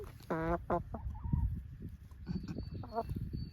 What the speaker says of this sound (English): She's a lovely black hen and a lovely blue hen.